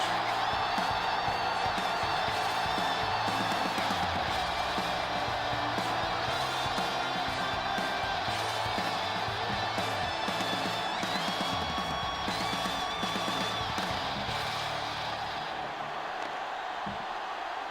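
A large crowd roars and cheers in a stadium at a professional football game before kickoff, a continuous wash of distant voices and whoops with a commentator talking over it.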